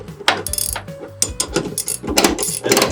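Ratchet strap cinched down on a Rail Ryder two-car stacker trolley, a series of loud, close mechanical ratcheting clicks repeating in quick bursts over about three seconds.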